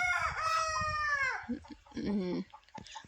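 A rooster crows once on a farm, a loud drawn-out call followed by a few shorter clucking notes, close by and clear.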